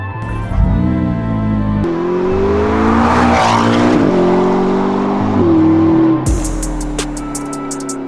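A McLaren sports car drives along the open road, its engine droning and shifting pitch through gear changes, loud and close, with a brief sharper tire or wind rush near the end.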